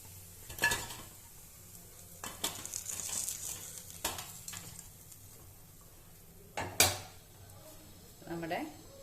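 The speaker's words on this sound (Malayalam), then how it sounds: "അപ്പൊ ഞാൻ ഇതൊരു സെർവിങ് പ്ലേറ്റിലോട്ട് മാറ്റുവാണേ" Crispy fried chicken is shifted onto a serving plate, with scattered clinks and scrapes of utensil on dish and a few sharper knocks against a quiet kitchen background, near and intermittent.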